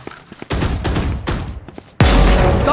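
Gunfire in the shooter game Valorant, rapid bursts of shots crackling continuously for a couple of seconds before a sudden, much louder dense burst, close and harsh with no talking.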